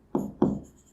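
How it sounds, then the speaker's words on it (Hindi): Two quick marker or pen strokes on a board during a biology lesson, each a short scratchy burst, close and fairly loud with no talking. "आगे का जो पॉइंट है वो हम लिखेंगे"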